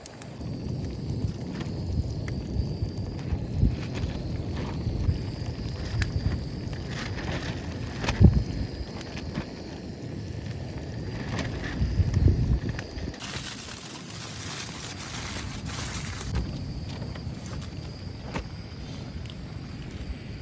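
Wind gusts across a shingle beach at night, a faint, steady rushing roar with occasional stronger buffets against the microphone.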